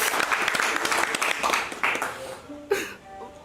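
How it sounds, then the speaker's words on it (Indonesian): A group of members and crew at a rap marathon closing event applaud, a busy patter of claps that thins out near the end as a voice and a brief sharp knock follow. "Semua tepuk tangan buat Aloy."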